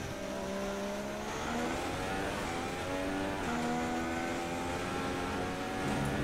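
A Sauber Formula 1 car in the F1 2016 racing game screams at high revs, pitch climbing through several gear changes while the tyres lock under braking, loud and continuous with no talk.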